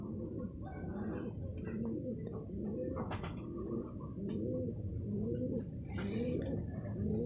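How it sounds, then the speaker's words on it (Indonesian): Many pigeons cooing steadily at a pigeon market in Purbalingga, a dense layered chorus of low coos with a few brief higher chirps, close and continuous throughout. "Nih Bro, ada banyak banget nih Bro burungnya."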